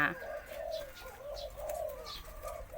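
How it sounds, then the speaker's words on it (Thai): Zebra doves coo from inside a cage, with repeated soft rolling calls at a steady rhythm and a few higher chirps mixed in, heard close and clear with no talking. "ลูกนกในกรงนี้ 4 ตัว ที่พร้อมส่ง"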